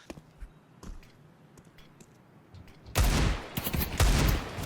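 Desert Eagle shots in Counter-Strike 2 at a pro match, a loud dense burst of gunfire erupting after quieter game ambience and lasting to the end, with rapid overlapping reports.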